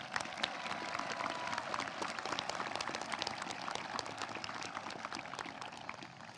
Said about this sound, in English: Let's give one big round of applause for all these great accomplishments